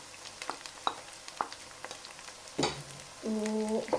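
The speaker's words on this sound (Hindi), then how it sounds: "अब इसमें हम अदरक लहसुन का पेस्ट डालेंगे" Ginger garlic paste goes into frying onions with green chilies for a peas and meat curry, giving soft intermittent sizzles and stirring clicks that swell into a louder fry near the end.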